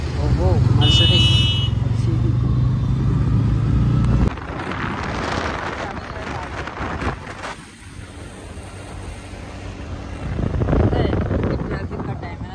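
Street traffic in Okhla rolls past in a steady, close rumble of car and motorbike engines with wind noise, while people talk over it throughout.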